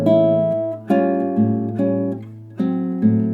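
Solo guitar plays a bossa nova chord passage, with a steady bass note under plucked chords that change about every second, close and clear.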